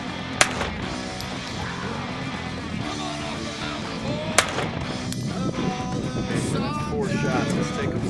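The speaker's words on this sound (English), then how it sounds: "Four shots." Pistol shots at outdoor target practice ring out as two sharp, separate cracks several seconds apart, set against a backdrop of people talking.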